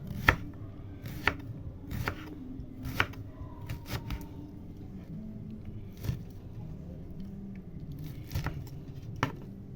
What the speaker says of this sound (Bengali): আর এই যে যেগুলো ছাড়িয়ে রেখেছিলাম সেগুলোকে এরকম ছোট ছোট করে পিস করে কেটে নিচ্ছি।